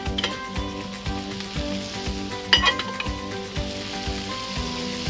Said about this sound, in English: now we're gonna take a pork chop, lay on top of each little pad of butter.